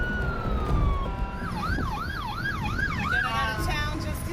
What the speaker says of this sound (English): You hear the emergency sirens going